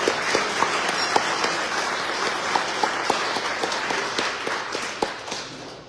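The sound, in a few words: applause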